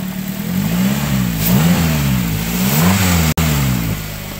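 A 2008 Toyota Avanza S automatic's engine revs up and down several times in a wavering rhythm, loud and close, with a brief cut near the end.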